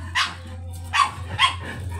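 Teacup Chihuahua giving three sharp, high little barks spaced about half a second apart, close and fairly clear over a steady low hum.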